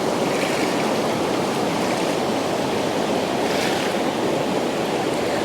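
A river flows past a forested riverbank where wild elephants cross. The water makes a loud, steady rushing roar throughout, with no voices.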